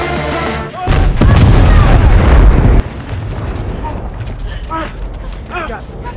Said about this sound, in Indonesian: pesawat akan meledak